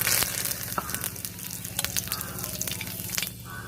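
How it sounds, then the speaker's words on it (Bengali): Panch phoron spices, a dry red chilli and a bay leaf sizzle and crackle in hot oil in a kadai for a vegetarian mixed-vegetable curry, a steady close frying hiss with scattered sharp pops. "এবার পাঁচ ফোড়ন শুকনা লঙ্কা আর একটা তেজপাতা দিয়ে দিই"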